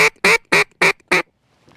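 Five sharp, evenly spaced quacks from a duck call imitating a hen mallard on the water, in quick succession, loud and close, followed by quiet.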